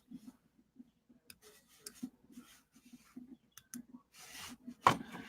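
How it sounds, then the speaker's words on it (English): Quiet, irregular clicking and tapping like someone typing on a keyboard, faint in the background of an otherwise quiet room, with a brief louder burst near the end. "It sounds like somebody typing in the background."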